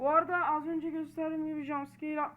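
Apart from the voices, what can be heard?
None of the usual background noises is heard.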